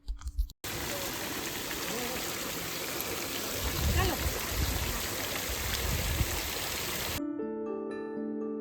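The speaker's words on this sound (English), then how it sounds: "you can hear the powerful sound of water echoing through the rocks" Water from Devi's Fall in Pokhara rushing and echoing through cave rocks, a dense, steady roar of flowing water, close and continuous, cut off abruptly near the end.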